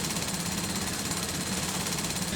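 A machine trims the leather sole margin around an R.M. Williams boot in the factory, giving a loud, steady, rapid mechanical buzz and rattle that runs unbroken, with no talk.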